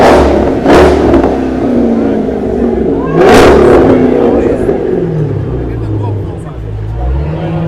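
A car engine revs loudly on a Manhattan street in the evening, with two sharp roaring bursts near the start and middle over steady city traffic and a low rumbling idle, while people talk and shout nearby.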